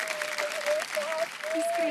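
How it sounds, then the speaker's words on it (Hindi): A studio audience at a Kaun Banega Crorepati taping claps to welcome a guest, a brief dense burst of applause under a host's voice. "सर, तालियों के साथ आपका स्वागत करता हूं।"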